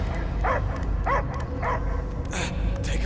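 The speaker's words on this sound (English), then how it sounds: "I hear only barking." A dog in the Guardians of the Galaxy video game barks in a quick series of short yips and woofs over a loud rumbling game soundscape.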